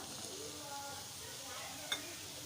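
Radish and onion sauté in a pan with a low, continuous sizzle. One sharp utensil clink cuts through partway.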